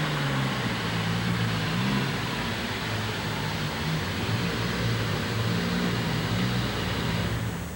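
The Bigfoot monster truck engine roars continuously and loudly during a pull at the 1988 USHRA Winter Nationals in Kansas City, Missouri, its pitch wavering up and down as the throttle shifts. The crowd and arena noise blend in underneath.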